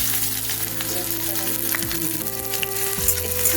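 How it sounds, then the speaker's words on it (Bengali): Half an onion sizzles and fries steadily in hot oil that already holds a dried red chilli and bay leaf, with a continuous close crackle throughout. "তেলটা গরম হয়ে গেছে, এখন অর্ধেকটা পেঁয়াজ দিয়ে এতটা লাগবে।"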